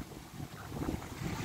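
Longtail boat out on the sea off a Thai island, its engine a low steady rumble mixed with wind buffeting and the wash of waves, fairly constant and building slightly toward the end, with no voices.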